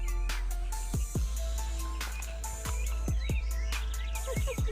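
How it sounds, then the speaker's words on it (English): Birds sing outdoors in Los Angeles, an American robin's whistled phrases mixed with a mockingbird's varied chirps, moderately near over a low steady hum and occasional sharp clicks. "American Robin. Ooh, Mockingbird."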